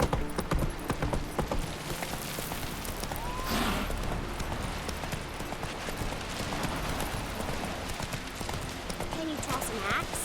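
Roach the horse galloping in The Witcher 3, a steady run of hoofbeats under game music and ambient noise, with a voice speaking briefly.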